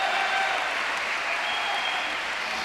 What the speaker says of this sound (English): Crowd roar on the tin.